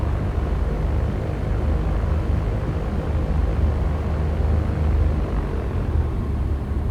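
An airplane taking off in the X-Plane 11 flight simulator: a steady, unbroken low engine roar with rumble at a constant loudness throughout.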